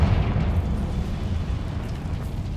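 A Confringo blast spell erupts in Hogwarts Legacy, a loud close boom that rumbles on as a dense roaring tail before slowly thinning out.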